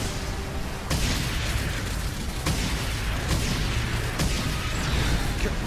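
A starship being blown apart in the One Punch Man anime sets off heavy explosions: loud, deep booms roughly every second and a half over a dense, continuous rumble.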